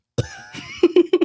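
A voice imitates a small child's cough: a breathy burst, then a quick run of short, tight coughs, close and fairly loud.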